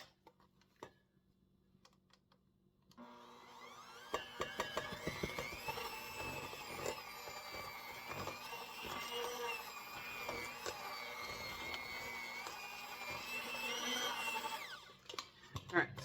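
Powdered sweetener being mixed into keto buckeye dough by an electric mixer, which starts after a few quiet seconds of small clicks and then whirs steadily and close for about twelve seconds before stopping.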